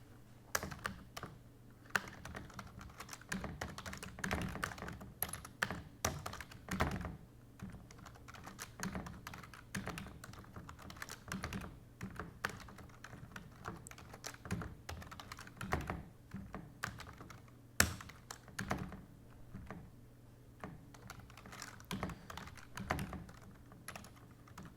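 Computer keyboard typed on in a quiet room, an irregular stream of soft close-up key clicks in bursts with brief pauses, running for about twenty-five seconds.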